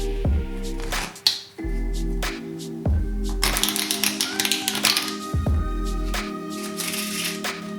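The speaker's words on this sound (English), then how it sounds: "It's how to riffle shuffle in my hand." A Bicycle playing card deck riffle shuffled in the hand, with crisp close fluttering riffles and sharp taps as the cards bridge and square up, over a steady background hum.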